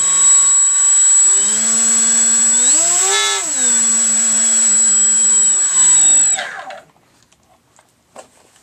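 A homemade RC electric air boat's fan motor whines steadily at partial throttle, its tone briefly rising and falling mid-run before cutting off, leaving near silence with a couple of faint knocks.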